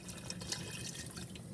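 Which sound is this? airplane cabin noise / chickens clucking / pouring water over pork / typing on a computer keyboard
pouring water over pork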